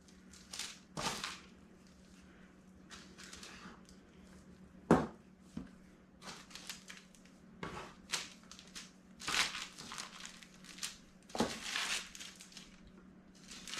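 Parchment paper crinkling and crackling under hands working dough in a farm kitchen, with irregular sharp rustles and bursts that come close up, and no talking.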